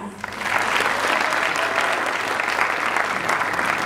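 An audience at a grand film premiere breaks into loud applause, a dense, sustained roar of clapping that swells within the first half second and holds steady and close to the end.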